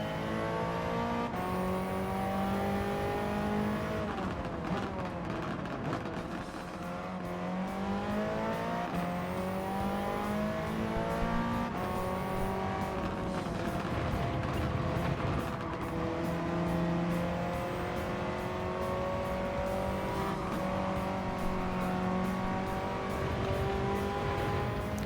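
A race car engine in Gran Turismo 7 roars continuously, revving up and down through gear changes with a synthetic, game-like tone and faint tire noise.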